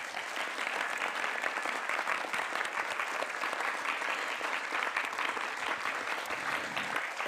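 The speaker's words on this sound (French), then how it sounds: "j'aimerais encore une fois qu'on applaudisse encore le poète." An audience claps for a poet at a live poetry reading, a dense, steady burst of applause sustained at an even level throughout, with no voices standing out.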